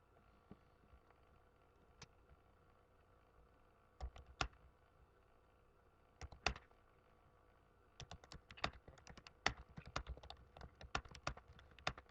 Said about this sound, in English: Now type the text that you want to save as a macro.